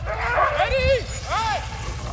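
Sled dogs in Fairbanks, Alaska bark and yip in two drawn-out rising and falling cries, close and fairly loud over a constant outdoor rumble, with a person talking nearby.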